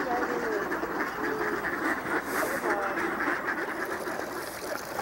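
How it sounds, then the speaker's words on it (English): Ducks quacking outdoors in winter at a pond walkway, with a couple of Canada geese among them: scattered quacks rise over a steady roar of wind or distant noise, moderately near and continuous throughout. "A couple of Canada geese, but it's mostly ducks."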